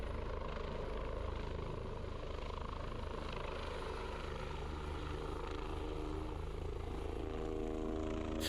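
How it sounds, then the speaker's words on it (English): An EC135 helicopter lifts off from a helipad and flies away, its rotor throbbing in a steady rhythmic chop over a constant engine whine, distant and fairly quiet, with the pitch shifting slightly near the end. "the nose is lowered slightly and the helicopter flies away"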